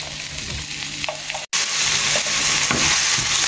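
Onions fry in hot oil with a loud, continuous sizzle and crackle, the stirring audible as scraping throughout, with a brief dropout partway through before the sizzle returns stronger.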